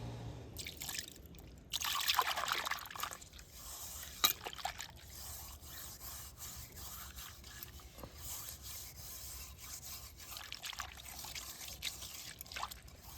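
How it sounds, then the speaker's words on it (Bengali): Water is poured to rinse a cleaned, burnt kadai pan, a steady close trickle and splash over the metal with light rubbing scrapes and a few louder sloshes. "এবার আমি একটু জল দিয়ে ধুয়ে দেখাবো কতটা পরিষ্কার হলো"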